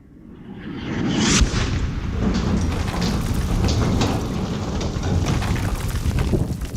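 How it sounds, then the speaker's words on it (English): A bomb dropped from a fighter jet explodes on target: a deep, broad blast builds to a sharp peak, then rolls into a long, sustained rumble that stays loud through the end. "bomb has hit. But how close did it land?"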